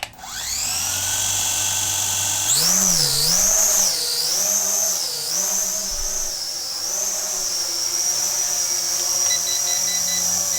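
A drone's obstacle-avoidance sensor beeps in a steady high electronic tone over the rising, wavering whine of its rotors as it spins up and hovers close by, with no talking.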